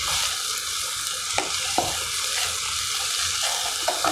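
Onions and a red chili fry in a pan for a mutton masala, giving a continuous bright sizzle with a few sharp clinks and scrapes of a spoon stirring, close and with no voices.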